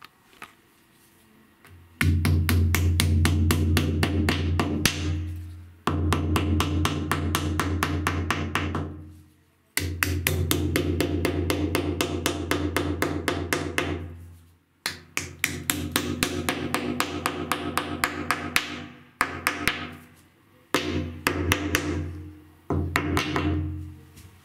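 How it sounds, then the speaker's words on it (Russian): Plastic wall plugs are hammered into drilled holes while fitting bathroom shelves with hidden mounts: rapid, rhythmic metallic blows come in several long bursts separated by short pauses, close and loud, with no talking. "Сейчас сюда загоняем дюбелечки."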